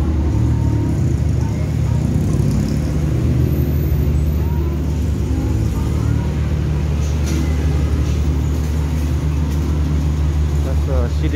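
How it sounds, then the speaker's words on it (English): A city bus rumbles through busy Bangkok street traffic among food stalls, a steady loud low engine drone filling the whole stretch, with a person talking over it. "city bus."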